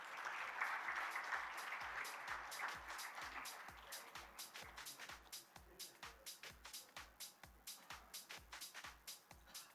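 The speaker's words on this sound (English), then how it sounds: "Let's give them a big round of applause." A conference audience at ThinkEdu 2023 in the ITC Grand Chola claps faintly. A soft wash of applause settles into slower, evenly spaced claps that thin out over about ten seconds.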